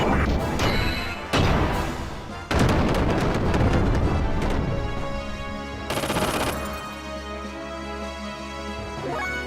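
H-arquebus gunfire in the video game Xenogears comes as sharp crashing bursts and rattling volleys, with heavy impacts that cut in and out against a ringing, tonal battle backdrop.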